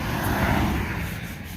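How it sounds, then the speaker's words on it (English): Steady broadband traffic rumble from passing road vehicles fills the air at an outdoor metal detecting site, a continuous moderate wash with no voices. "Sorry about the traffic noise."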